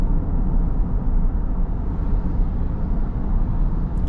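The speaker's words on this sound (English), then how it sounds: "not too bad in the road noise here." Steady low road and tire rumble inside a 2024 Kia Carnival minivan on a test drive, a continuous dense drone with no talk over it.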